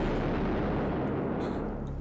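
A German 88mm gun firing in wartime battle footage, a loud, sustained, heavy rumble of artillery filling the whole two seconds with no distinct pauses.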